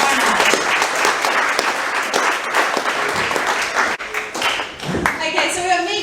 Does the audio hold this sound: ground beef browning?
no